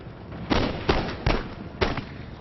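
Musket volleys from troops in the Empire: Total War strategy game, four sharp cracking bursts spaced about half a second apart over a steady background roar of battle.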